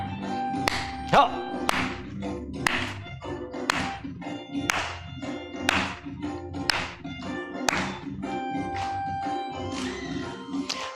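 An audience at a hospital health lecture claps along in a steady beat, about one clap a second, to a song of thanks, with sustained musical tones underneath and a brief spoken cue near the start.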